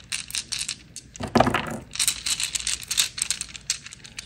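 Several dice tossed during a tarot reading tumble and clatter across a surface, giving a short burst of light rattling clicks that is loudest around the middle, with softer shuffling and crinkling noises before and after.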